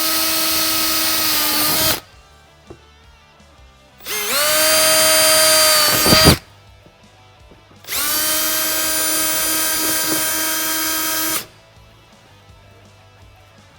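A power drill drives screws into a low-profile fender flare on a Polaris RZR XP Turbo UTV, whirring in three close, loud bursts of about two to three and a half seconds each, with short quiet pauses between them.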